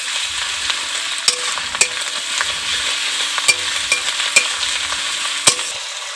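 Ginger and garlic paste frying with onion in a pan sizzles steadily, broken by a handful of sharp clinks and scrapes of stirring at irregular intervals; no voice.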